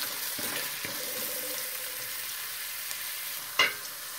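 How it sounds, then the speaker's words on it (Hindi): Onions sizzle gently in a pan while cooking for matar paneer, a soft steady frying hiss with light stirring scrapes and one brief clatter near the end. "Şimdi soğanları yumuşak olacağı kadar pişireceğiz."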